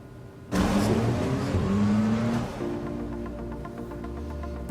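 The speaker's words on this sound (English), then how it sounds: "Few sounds resonate more with a Porsche enthusiast than the adrenaline-inducing rumble of a high-performance engine" A high-performance Porsche engine rumbles loudly and close, with a sudden burst of revving that holds steady before easing into a lower, sustained drone.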